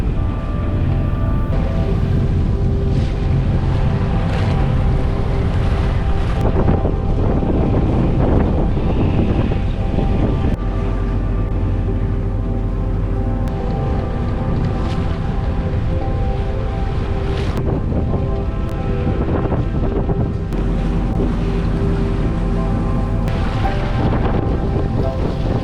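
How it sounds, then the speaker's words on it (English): Sailboat motoring under its engine into the wind in the Swedish archipelago: a constant low engine hum under heavy wind buffeting and rushing water and waves, loud and unbroken throughout. "had to start the engine because we're going almost against the wind and changing direction"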